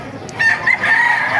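A white kelso rooster at a chicken market in Baliuag gives a single loud, close crow lasting about a second, ringing out clearly over faint background murmur.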